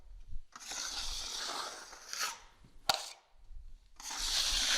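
A taping knife rasps and scrapes drywall joint compound across a wall in long strokes, broken by short pauses and a sharp tap, close and fairly loud.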